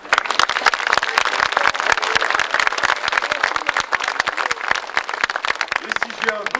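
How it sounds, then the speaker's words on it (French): An audience applauds after a speech at a Schweissdissi Confrérie Milhüsa gathering in Mulhouse, with rapid overlapping claps spread across the whole stretch and fairly loud. "Et on peut les applaudir."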